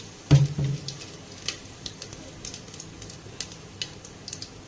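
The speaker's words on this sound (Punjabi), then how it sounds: "ਜੀਰਾ ਥੋੜਾ ਜਿਹਾ ਪਾ ਦਾਂਗੇ ਆਪਾਂ ਧਨੀਆ ਜੀ ਸਾਬਤ ਇਹਨੂੰ ਚੰਗੀ ਤਰ੍ਹਾਂ ਭੁੰਨ ਲੈਣ ਦੀ" Whole cumin seeds and coriander roasting in heated oil in a pan: a clank as they go in, then soft scattered crackles and pops at an irregular rhythm.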